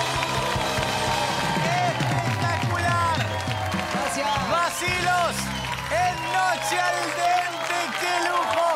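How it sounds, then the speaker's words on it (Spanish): Live concert crowd applauding and cheering a band after a song, dense clapping and shouts filling the room at a steady, loud level with a lingering musical tone underneath. "aplauso para la banda"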